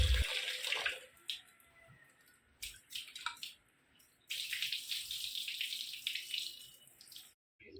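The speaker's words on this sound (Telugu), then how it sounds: "ఫస్ట్ అయితే చికెన్ కడుక్కోవాలి" Raw chicken is washed under a running kitchen tap, with bursts of splashing water and drips that start and stop as the pieces are handled, fairly close and moderately quiet.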